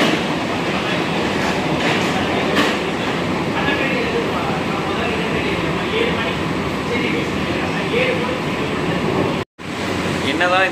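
An AC local EMU train in Chennai rumbles steadily along the tracks with a continuous rattling roar and a brief cutout near the end, while someone talks over the noise.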